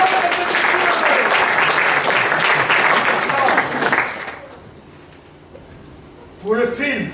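An audience applauds the winner of a film award, heavy clapping for about four seconds that then cuts off into near quiet before a voice begins speaking.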